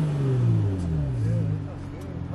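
A Kia Stinger GT engine revs nearby, loud and close, its tone sliding down and then climbing again in a few swells, while people talk over it.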